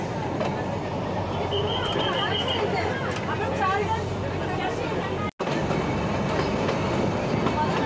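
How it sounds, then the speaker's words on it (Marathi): A slow toy train on the Matheran hill line rumbles steadily along with faint rhythmic clatter and a thin squeal of wheels, continuous and fairly close, with people talking over it. "ट्रेन एवढी स्लो असते की तुम्ही व्यवस्थित सगळं बघू शकता."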